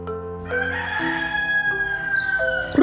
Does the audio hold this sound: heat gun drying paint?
no